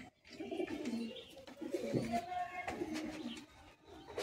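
Madrasi high-flying pigeons in a loft, giving repeated soft low coos and rustles close by, with a voice speaking intermittently over them.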